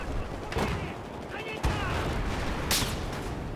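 Gunfire in the video game Battlefield 4 crackles as scattered distant shots and bursts over a steady background rumble, fairly faint, with no voices over it.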